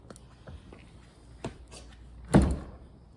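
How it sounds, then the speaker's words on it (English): French door being pushed into its frame during installation, a few soft knocks and taps followed by one fuller thud near the end, close and moderately loud with no talking. "Pushing the door in."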